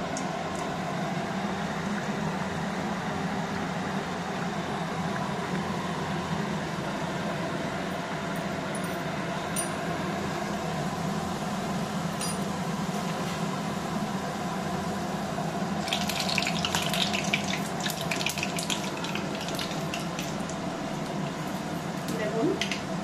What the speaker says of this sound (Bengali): এবার আমি প্রত্যেকটা পুরি এইভাবে ভেজে নেব।